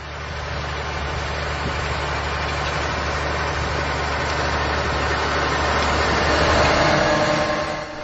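A Valtra Versu tractor pulling a Kongskilde cultivator runs with a steady, loud diesel drone that swells slightly toward the end, with no voices over it.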